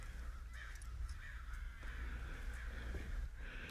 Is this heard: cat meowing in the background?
no